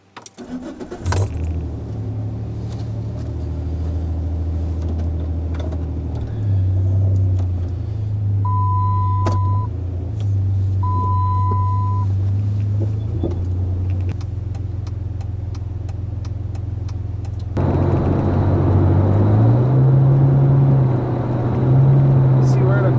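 A car drives along with a steady low engine and road rumble throughout, a couple of short electronic beeps sound partway through, and the rumble swells as it speeds up near the end.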